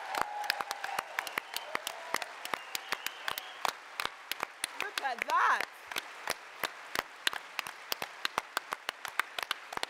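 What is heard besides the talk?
audience applause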